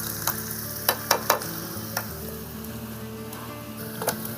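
Onions and turmeric fry in a pot over a village wood-fired stove while being stirred, steady sizzling broken by several sharp scraping clinks of the spoon, close and fairly quiet, with no talk.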